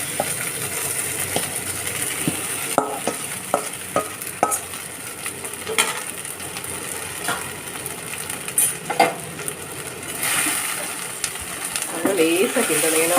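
Sabudana (tapioca pearls) is stirred gently in a pan for khichdi, with a soft background sizzle broken by repeated spoon scrapes and light metallic clinks against the pan.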